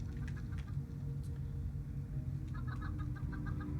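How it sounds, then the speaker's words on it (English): Irradiated chickens in a Fallout video game cluck in quick short bursts, fairly faint and somewhat distant, over a steady low rumble of game ambience with no talking. "I hear rad chickens, but I don't see them anywhere."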